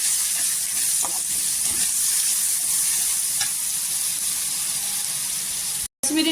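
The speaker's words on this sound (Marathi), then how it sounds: "हे सुके मसाले आहेत ना छान असं तेलावर परतून घ्यायचं" Dry spices, coriander, garam masala and turmeric, sautéing in hot oil for a spicy crab curry: a steady, close bright sizzle with soft stirring scrapes throughout, briefly cutting out near the end.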